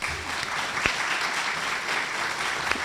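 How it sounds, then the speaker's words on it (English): Audience applause for reviewers at an education leadership awards ceremony, a steady, moderately loud patter of many hands clapping throughout, with a couple of sharper single claps standing out. "let's give our reviewers listed on the screen a round of applause"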